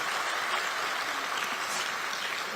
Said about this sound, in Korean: 여러분 자축하는 의미로 박수 한번 보내주시죠.